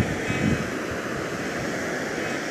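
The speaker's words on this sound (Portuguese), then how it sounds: "E está bastante forte, bastante barulho no mar, né?" Strong surf roars steadily on the beach at Matinhos, Paraná, a loud continuous wash of breaking ocean waves with wind noise buffeting the microphone.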